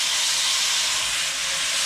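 Soy and honey pork tenderloin sears in a hot pan with a loud, continuous hiss of sizzling fat and steam, unbroken for the whole moment.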